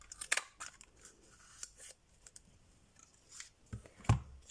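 Scissors snip through a paper label for a summer bookmark in a few quick, quiet cuts, close by and alone, with soft handling sounds between.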